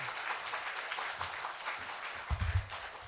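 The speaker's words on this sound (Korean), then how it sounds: "박수로 우리 목사님 모시겠습니다" A church congregation at a Sunday service claps to welcome the pastor, a soft, distant patter of applause with low thumps and murmurs beneath it.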